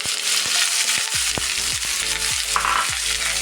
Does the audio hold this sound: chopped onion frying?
yes